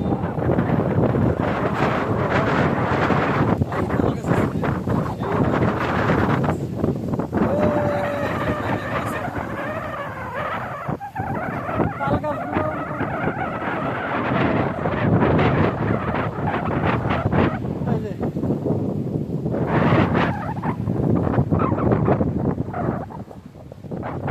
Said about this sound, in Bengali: অনেক বাতাস আছে এখানে